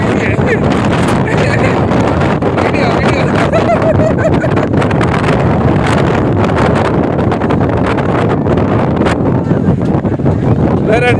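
Strong gusting wind at Nelliyampathy roars loudly and continuously across the microphone, buffeting it with heavy rumbling noise, while voices come through faintly underneath.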